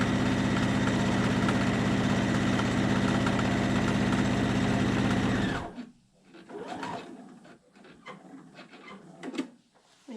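A home sewing machine stitches along the edge of a handkerchief, its loud steady whir running continuously for about five and a half seconds before stopping, leaving faint handling noises afterward.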